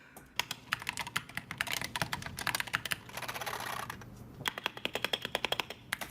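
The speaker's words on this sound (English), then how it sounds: "That one also sounds like Cherry MX Brown." Mechanical keyboard with Cherry MX Brown switches typed at a steady pace, dense runs of close, crisp clicks broken by a brief lull, then a burst of separate keystrokes at the end.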